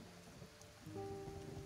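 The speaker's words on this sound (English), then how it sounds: "Is it also raining in the desert?" Rain falls in a desert in the video game Kenshi, a steady soft hiss of rainfall that continues under tonal game music, faint overall and growing somewhat louder partway through.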